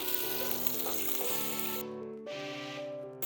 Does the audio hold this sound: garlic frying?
yes